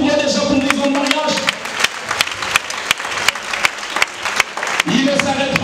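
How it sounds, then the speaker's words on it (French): Wedding guests applaud a couple celebrating ten years of marriage: steady crowd applause throughout with individual sharp claps standing out, and voices and faint music underneath. "Est-ce que l'on peut applaudir pour eux déjà pour 10 ans de mariage?"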